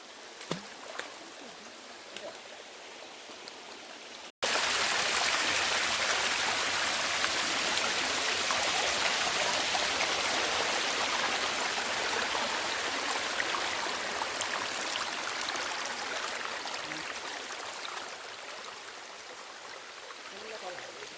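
Stream water flows and rushes steadily in a village setting, starting faint under a voice and then swelling into a loud, continuous broadband roar that lasts to the end.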